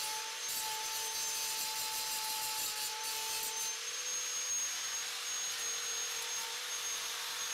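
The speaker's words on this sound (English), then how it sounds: "So I'll start by grinding off the top" A grinder works the top of a bike frame tube for a fat-tire triplet bicycle, giving a continuous, steady abrasive whine with a high tone that holds throughout, close and moderately loud.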